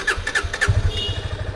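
A motorcycle engine starts with a few quick cranking bursts and then catches into a rough, pulsing idle, heard up close and fairly clear.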